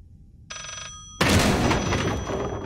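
A single short burst of old-style telephone bell ringing in the Layers of Fear horror game, quickly swallowed by a loud, sustained rush of noise that dominates the rest.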